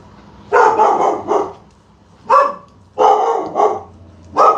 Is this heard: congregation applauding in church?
no